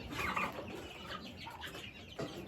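Lohmann Brown roosters clucking softly nearby, scattered short clucks and murmurs over a quiet outdoor background.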